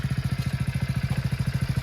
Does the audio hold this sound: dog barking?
no